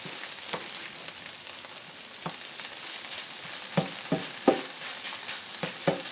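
Low carb hash browns frying in a pan give a steady, close sizzle, broken by several sharp scraping clicks and thumps as a spatula works underneath and flips them.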